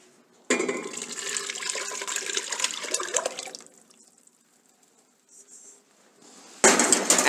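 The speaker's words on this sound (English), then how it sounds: "Now we transfer this to a thick bottom pan," Mutton consomme mixture is poured into a thick-bottomed pan, a steady splashing, liquid rush lasting about three seconds, close and fairly loud, followed by quieter handling sounds and a sudden burst of noise at the end.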